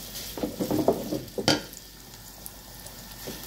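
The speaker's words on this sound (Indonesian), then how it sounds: "Akan saya tumis sampai layu dulu ya bawangnya" Onions sautéing in a home-kitchen pan give a close, quiet sizzle with a cluster of scraping and stirring strokes in the first half, one sharper clatter, then a softer, steady frying hiss.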